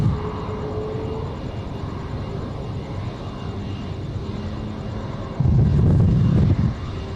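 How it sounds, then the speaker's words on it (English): Late evening domestic jets taxiing down taxiway Charlie at Sydney Airport, a steady, moderate engine hum and whine with low rumble, swelling into a louder, closer burst of roar near the end. "A couple of our late evening domestic departures coming down taxiway Charlie"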